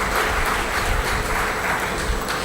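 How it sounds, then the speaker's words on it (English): A seated audience claps steadily for about two and a half seconds, a dense, even wash of hands welcoming the president and GM of an inkjet business at an industry advisory board meeting, with no voices rising above it. "can we have a round of applause?"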